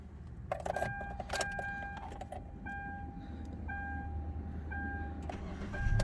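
A Hyundai Elantra fitted with an LPG gas system idles steadily with a smooth, low rumble close by, while a series of short dashboard warning chimes repeat over it.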